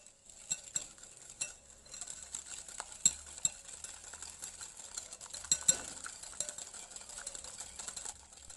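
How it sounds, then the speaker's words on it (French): Egg, a pinch of salt and sugar being whisked together in a bowl for a mandarin cake, giving a faint, steady run of light scraping and clicking strokes with a few sharper taps, with no talking. "J'ajoute l'œuf, la pincée de sel avec le sucre et je fouette."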